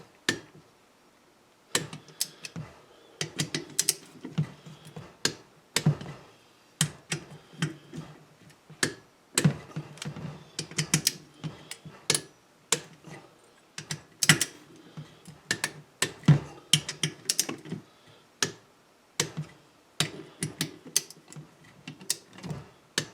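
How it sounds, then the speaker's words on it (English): A torque wrench clicks while small-engine head bolts are tightened in a workshop, giving sharp metallic clicks in irregular bursts with short pauses between them, close and clear with no talking. "So they're all clicking pretty good. So I'm going to guess we're torqued down."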